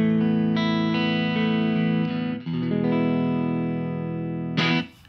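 A clean electric guitar running through the Arturia Chorus Dimension-D plugin with cabinet simulation rings out in long, shimmering sustained chords, close and alone, with a brief bright strum near the end.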